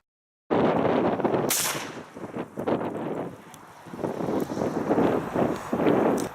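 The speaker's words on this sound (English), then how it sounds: "I'm gonna zoom in close so you guys can see what the explosion's like." An exploding target detonates outdoors with a sharp blast, followed by wind buffeting the microphone and scattered thumps and rustling debris.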